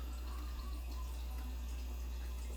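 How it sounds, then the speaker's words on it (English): Water pours steadily into a pitcher of grape pink lemonade Kool-Aid with crushed ice, making a continuous, even rushing splash with no voices. "And then some water."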